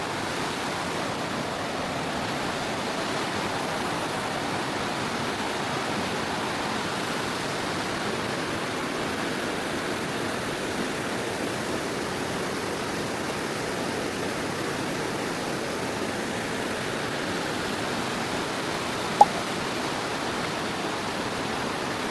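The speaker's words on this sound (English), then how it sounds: "beautiful river. Look at that." A river in the North Cascades of Washington flows steadily behind a cabin, a constant, broad rushing wash that stays even throughout with no voices.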